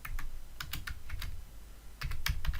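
Keys clack on a computer keyboard while text is entered during an ASP.NET MVC coding tutorial, scattered quick strokes then a denser burst near the end, close and clear with no voice over them.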